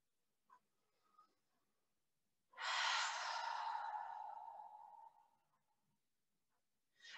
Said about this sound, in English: Taking a couple deep inhales and exhales.